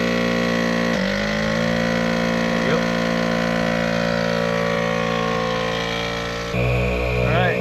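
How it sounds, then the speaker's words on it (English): A vehicle engine, prepared for snow wheeling after a blizzard, cranks and starts, then settles into a loud, steady idle with a constant mechanical hum, its pitch shifting slightly near the end. "Now I'll actually go ahead and start the engine too"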